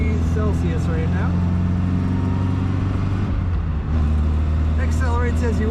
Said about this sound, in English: This little 4-banger plugging along, purring very nicely.